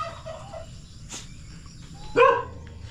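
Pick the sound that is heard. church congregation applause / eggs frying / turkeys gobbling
turkeys gobbling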